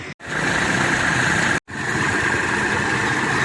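A former Po. Haryanto bus, now in the Batu Mukti Putra Juwita fleet, idles steadily during air-conditioning repair, with a constant engine drone and hiss broken by two brief dropouts.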